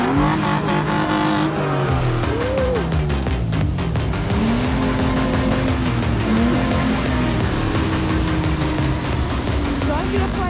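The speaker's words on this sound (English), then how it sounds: "start revving as I walk past the cars" Several car engines rev hard and rise and fall in pitch as they pass close by on a beach track, loud and continuous, with some tyre noise and occasional voices underneath.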